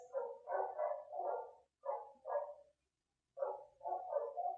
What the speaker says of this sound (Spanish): los perros comienzan a ladrar al lado